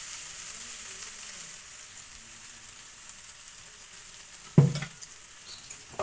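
Ridge gourd pieces frying in a little oil in a pan, a quiet steady hiss and sizzle with a sharp stirring clatter near the end, close and alone.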